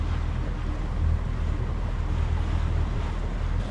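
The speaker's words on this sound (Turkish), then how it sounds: "Doğu, doğulu bir rüzgar esiyor." Steady easterly wind roars over open water around a sailboat, with a low rumbling wash of waves and hull noise underneath. The sound holds unbroken throughout.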